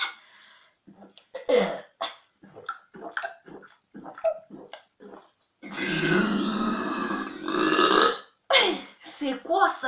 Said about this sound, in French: J'ai pas l'habitude de roter comme un bébé